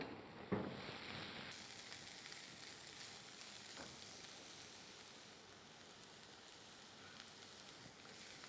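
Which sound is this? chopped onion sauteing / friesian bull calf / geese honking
chopped onion sauteing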